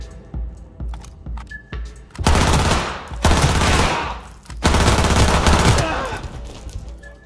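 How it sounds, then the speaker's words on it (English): SMG fire in the video game Cyberpunk 2077: a few light clicks and short taps, then two long loud bursts of rapid automatic gunfire separated by a brief pause, close and dominant. "Okay, SMGs are good."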